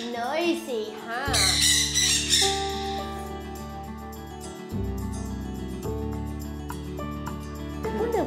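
Parrots of several similar species kept together in a rescue setting squawk loudly and repeatedly, harsh calls crowding a busy indoor space while people talk nearby.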